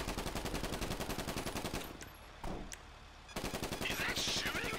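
Rapid automatic gunfire in the open-world game Grand Theft Auto V, dense rattling bursts that pause briefly mid-clip and then resume loudly.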